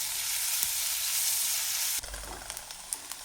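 Onion sautéing in a pan while being stirred for a Kolhapuri misal, a steady broadband sizzle that shifts after a couple of seconds into stirring scrapes and small clicks over continued frying.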